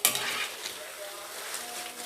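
Snacks fry in hot oil with a dense, steady sizzle and crackle, loud and close, with a brief stir at the start.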